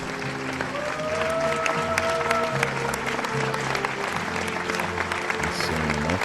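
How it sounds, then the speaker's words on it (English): Applause in the video game Seven Doors, a steady wash of crowd clapping that runs throughout, with sustained musical tones underneath and someone talking over it. "We get an applause."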